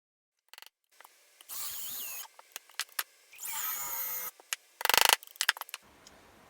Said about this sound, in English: I've got these 3 rivets that I was saying. I'm going to drill them out.